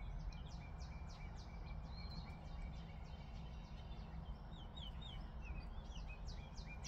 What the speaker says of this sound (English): The birds are out singing.